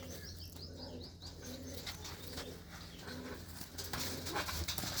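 Red Cheena pigeons coo softly in low, repeated throaty bursts, mixed with faint chirps and a brief flutter of wings, heard at a modest distance against quiet outdoor background.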